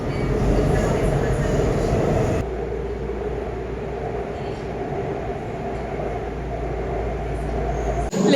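Inside a Seoul metro train, a continuous rolling rumble and hiss of the carriage in motion fills the space, shifting in tone partway through as the ride continues, with faint voices around.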